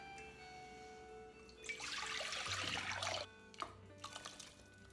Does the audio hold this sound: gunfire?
no